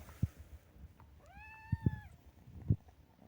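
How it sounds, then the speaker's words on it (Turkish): A cat gives a single clear, rising-then-falling meow close by, set against quiet room noise with a few soft thumps and knocks around it. "Ne miyav?"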